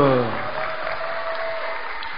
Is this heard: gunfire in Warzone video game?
no